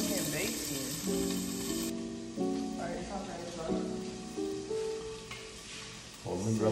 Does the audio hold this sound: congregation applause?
no